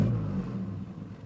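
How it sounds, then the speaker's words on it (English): A car engine runs with a low, steady rumble that fades slightly as the vehicle drives off, close and alone with no voices. "Dad started the car and drove"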